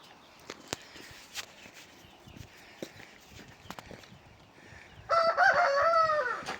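A rooster shut inside a coop gives one loud, drawn-out crow near the end, after soft scuffling and footstep-like clucks from nearby fowl.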